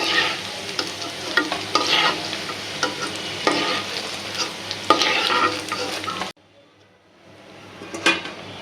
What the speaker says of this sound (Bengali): এই তেলের ভিতরে লুডুস রান্নার লেগে সবজি দিয়ে দিতেছি